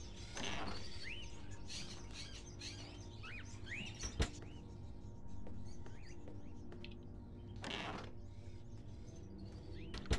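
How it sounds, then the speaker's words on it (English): Caged crows in a room in the Fahrenheit video game give off repeated short chirps and calls over a continuous ambient hum, with a few louder bursts and a sharp knock partway through. "Are those crows in the cages?"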